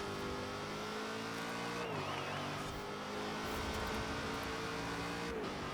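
A race car engine in Forza Horizon 4 drones steadily at high revs, dipping briefly as the driver shifts down to second gear for a tight grassy hairpin, then pulling again through a cross-country race.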